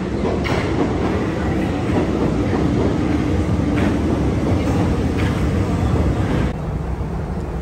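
A Paris metro train rumbles steadily with a dense, loud roar and faint rail clatter, the noise easing slightly near the end as the train slows.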